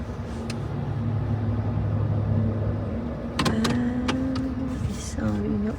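A police car with lights on approaches a stopped vehicle on a snowy highway during a winter road trip, heard as a rising vehicle rumble and passing noise from inside the truck, with an engine hum and brief mechanical clicks.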